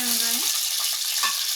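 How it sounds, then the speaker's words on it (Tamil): Small shallots sautéing in hot oil with fenugreek and curry leaves for a village-style fish curry, producing a close, steady hiss of sizzling; a faint tone fades in the first half. "இது நல்லா பொன்னிறமாக வரையும் நம்ம வந்து வதக்கிக்கணும்."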